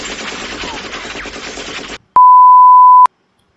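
Rapid automatic gunfire in the video game GTA 5, a dense, continuous burst lasting about two seconds, followed by a short pause and then a steady electronic beep.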